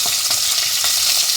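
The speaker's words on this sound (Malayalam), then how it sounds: "നന്നായിട്ട് വഴറ്റി കൊടുക്കുക" Tomatoes and green chili sautéing in a pan, a steady close sizzle with light stirring scrapes running throughout without pause.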